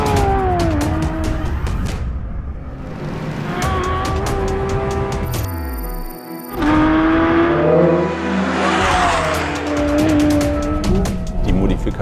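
A Porsche 718 Cayman GT4 RS on test runs hard, its engine loud and close as it revs, shifts and climbs through the gears, with tyre squeal and a brief lull before it accelerates again.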